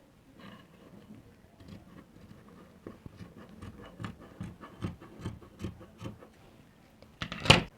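Fabric being cut out along a marked pattern for a bubu gown with a circle cape, giving soft, irregular snips and rustles that build to a louder crunch of scissors near the end, fairly close and with no talking.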